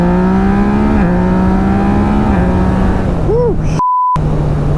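A Yamaha MT-09 motorcycle engine drones loudly and steadily, its pitch stepping up and down through the gears, with a brief tone and a short dropout near the end.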